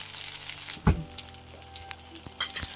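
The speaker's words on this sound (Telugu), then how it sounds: "గోంగూరను కూడా వేయించుకుందాం" Gongura leaves and green chillies fry in a pan for gongura pickle, giving a soft, close sizzle with a brief clatter of stirring, and no talking.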